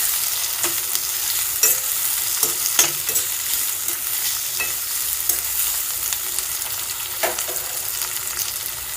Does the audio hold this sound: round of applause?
no